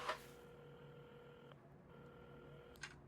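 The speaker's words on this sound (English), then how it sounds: "had started dialing the phone" A telephone is dialed in the repair puzzle game Assemble With Care, with a faint steady tone broken by a few clicks of the dial, quiet and close.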